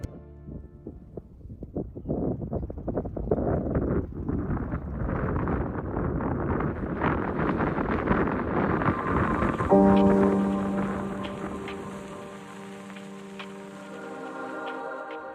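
Wind on a beach on a remote Brazilian island, a steady gusting roar that builds and buffets the microphone, then eases as a tonal hum and background music come in, with no talk.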